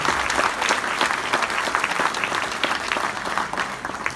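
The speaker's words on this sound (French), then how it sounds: "que je vous demande d'applaudir" An audience at a conference in Castelmaurou applauds a guest being welcomed to the stage, a continuous dense wash of clapping throughout, loud and close with no break.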